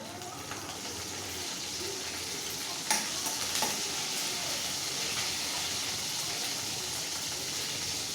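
Mustard seeds, cumin and curry leaves sizzle steadily in hot oil, a continuous close frying hiss with a sharp pop or stir clatter near the middle and faint scraping throughout, no voices.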